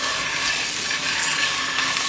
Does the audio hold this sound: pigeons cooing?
no